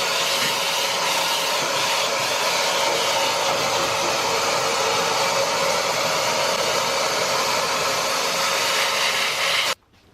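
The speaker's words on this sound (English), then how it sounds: "Then I used the vacuum cleaner to remove as much dust as possible" A vacuum cleaner removing dust from a boat hull: a loud, steady whooshing motor drone runs continuously for about ten seconds, then cuts off abruptly at the end.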